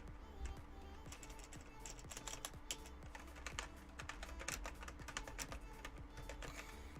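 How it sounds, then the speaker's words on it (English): Steady, rapid typing on a computer keyboard, close by, with clustered keystrokes continuing throughout over a low background hum. "So I'm typing something here."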